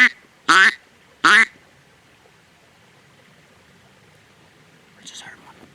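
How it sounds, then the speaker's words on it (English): Mallard ducks quacking out of sight on a partly flooded Colorado hunting marsh, two loud, close, drawn-out quacks in quick succession, then a faint, distant call a few seconds later over quiet background. "I heard a little quack."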